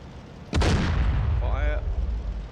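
A Panzer IV tank's main gun fires once in the DCS World WWII game, a sudden loud boom followed by a rumbling decay that lingers for over a second, with a faint whine rising underneath afterward.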